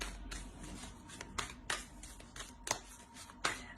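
Oracle cards shuffled by hand during a card reading, a run of quick papery riffles and soft slaps with a few sharper snaps, close and fairly quiet, no talking.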